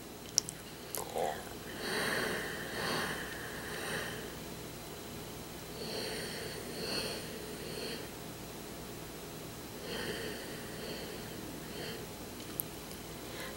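A voice imitates a very low, extremely quiet motor-like whisper: soft, breathy pulsing phrases in a few groups, faint and close, with quiet gaps between them.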